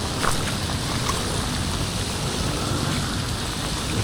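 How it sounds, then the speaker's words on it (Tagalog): Steady, heavy rain pours down in a dense, even hiss with no let-up, loud and close all around. "Kahit na umuulan."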